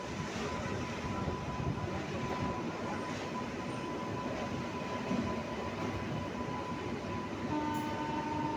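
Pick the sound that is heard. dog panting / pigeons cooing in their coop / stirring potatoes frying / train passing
train passing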